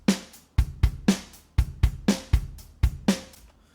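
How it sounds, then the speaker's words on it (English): A standard rock drum beat plays from music software, with crisp kick and snare hits alternating in a steady, even groove for a few bars, close and clean with no voices. "Classic drum beat."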